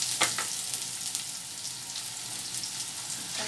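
Onions frying in ghee give a steady, close hiss and crackle that holds evenly throughout, with a couple of brief sharper spits and no talk.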